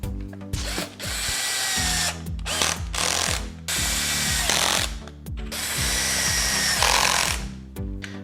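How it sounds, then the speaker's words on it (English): A power drill drives 1.5 inch screws into clamped wooden boards for a rustic outdoor storage bench, whirring loudly in repeated bursts with short pauses between each screw, close up and without talk. "just go ahead and screw them together"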